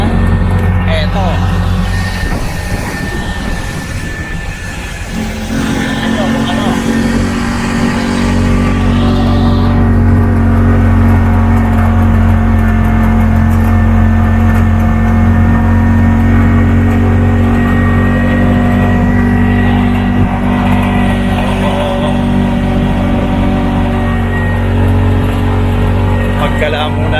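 A vehicle engine runs loud and close with a steady drone, rising in a rev early on before settling, while people talk over it.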